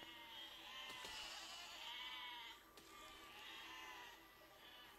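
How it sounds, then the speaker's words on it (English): Sheep in the video game Besieged bleat in overlapping, wavering cries, fairly loud and continuous over a soft background hum, with no talking. "Come on, sheep."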